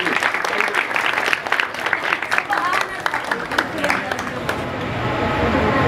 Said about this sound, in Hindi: जरा भरपूर तालियों से इस्तकबाल कीजिएगा